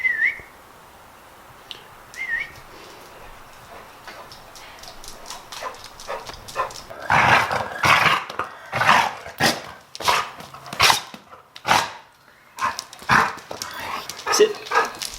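A dog whimpers and yips during play, then a run of loud, close, rhythmic barks arrives in bursts over the second half, with a faint whistle near the start.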